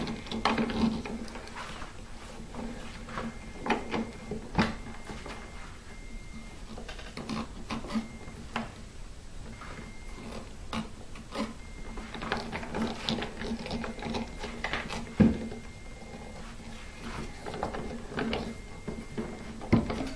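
A strong clamp is cranked down onto the neck of a 1965 Martin 000-18 acoustic guitar during a neck reset in a repair shop, making repeated close ratcheting clicks in irregular bursts for about twenty seconds.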